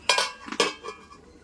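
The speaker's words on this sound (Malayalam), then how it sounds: "അപ്പോൾ നമുക്ക് ഈ പാത്രം കൊണ്ടൊന്ന് അടച്ചു കൊടുക്കാം." A metal vessel clanks onto a pot of cooking chicken curry as a lid, two sharp close clinks followed by a lighter rattle as it settles.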